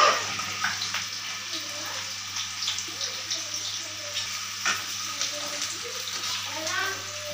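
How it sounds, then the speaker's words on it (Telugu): Chicken with stone-ground masala fries in a pan for a home-style chicken biryani, a steady broadband sizzle with scattered crackles and pops that holds at an even level throughout, with no talk over it. "మన రెడ్ కలర్ వచ్చే వరకు వేయించుకోవాలి"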